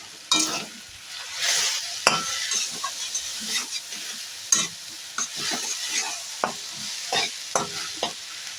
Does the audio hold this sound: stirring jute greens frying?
yes